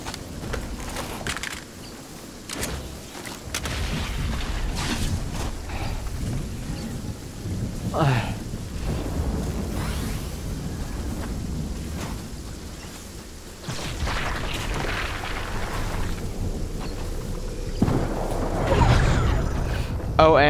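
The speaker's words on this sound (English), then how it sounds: "I'm too scared of the storm." A thunderstorm in the Fortnite video game rumbles and hisses with rain-like noise for the whole stretch, steady and loud, with deeper thunder swells near the end and faint talk now and then.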